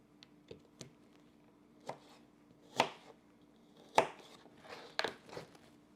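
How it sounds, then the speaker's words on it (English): A knife works through peeling ripe peaches for canning pie filling: a handful of sharp, close clicks and scraping cuts at irregular intervals, with quiet gaps between. "I'm on my 3rd one to be able to finish peeling the peaches."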